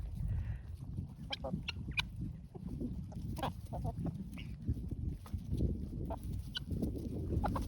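A chicken of uncertain sex, picked on by the rest of a backyard flock at morning feeding, clucks in short repeated calls amid other farm birds over a steady low rumble of background noise.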